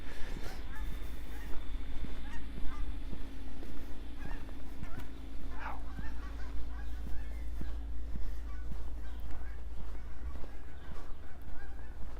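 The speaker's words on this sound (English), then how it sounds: "hear geese." Geese honk repeatedly in short calls over a steady low rumble of wind and traffic near a snowy lake in Regina, heard at moderate distance during an outdoor walk, with a dog nearby.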